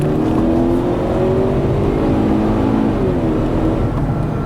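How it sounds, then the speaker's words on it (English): A Ford Fusion accelerates from 40 to 60 mph, its engine note rising steadily in a continuous smooth drone heard from inside the car, with road noise underneath. "that was like 40 to 60, and pretty punchy little engine"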